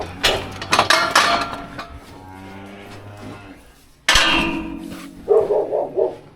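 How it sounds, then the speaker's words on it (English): A dog barks outdoors on a cattle farm during a cow's C-section, with short close barks at the start and a quick burst of several barks at the end, and a cow lowing in between. "that's Molly barking at out there"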